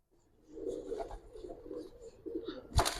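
Giribaz pigeons coo softly in a loft, a steady low murmur of overlapping calls ending in a sharp louder burst.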